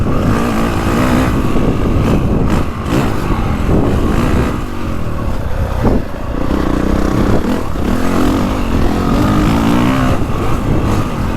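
Honda CRF450R Works Edition dirt bike engine revving hard while riding, the 2025 bike's loud, continuous roar rising and falling with throttle and a few brief dips, close and dominant throughout.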